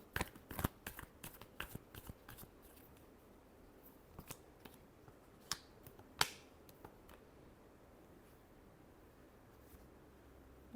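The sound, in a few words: tarot cards being shuffled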